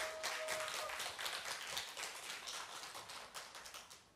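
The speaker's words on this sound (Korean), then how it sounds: "김미진 단원과 고수의 윤승환 단원에게 다시 한번 큰 박수 부탁드립니다" A small audience claps after a pansori performance of Simcheongga with a drummer, a dense, steady patter of hands that tapers slightly toward the end, with no voices.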